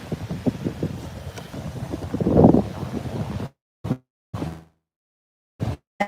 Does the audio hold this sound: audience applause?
no